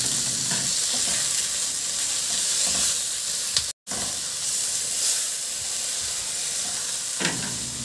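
Onion and tomato fry in a pan with loud, steady hissing and crackling sizzle, broken by stirring scrapes and one brief cut to silence midway.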